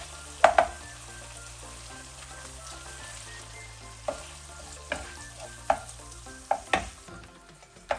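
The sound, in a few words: prawns sizzling as they are added to the frying sauce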